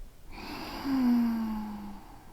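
A slow, deep inhale during yogic sectional breathing, a single long, close breath that swells and fades over about two seconds and carries a faint voiced tone.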